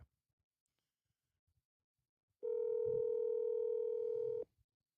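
A telephone dial tone during a call: near silence, then one steady, even tone for about two seconds that stops abruptly.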